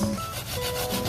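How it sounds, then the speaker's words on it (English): Coconut flesh scraped on a grater makes a short, close, rough rubbing rasp, steady for about a second. "Going grate the coconut."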